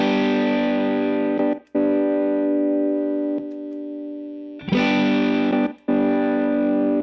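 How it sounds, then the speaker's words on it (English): Sustained distorted electric guitar chords run through an Eventide H9 pedal with light tremolo, with the signal cutting out briefly during patch switches, leaving short gaps and a level drop before the sound returns. "Did you hear the drop in signal?"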